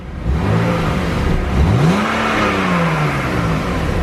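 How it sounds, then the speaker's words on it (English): A car engine fitted with a new BMW exhaust revs up sharply, holds a high droning pitch, then eases back down and settles, loud and close, with no talking over it. "let's get a quick sound clip, even though it's not going to really be any louder. You never know. All right, give it a rev."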